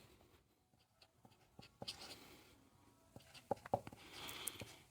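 Pen or chalk strokes scratch out trigonometry formulas during a maths lesson, faint close taps and short scrapes in an uneven rhythm, with no talking over them.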